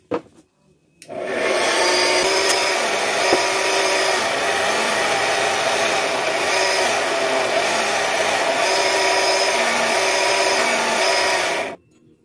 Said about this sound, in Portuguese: Quanto mais você lixa, mais espelhada ela fica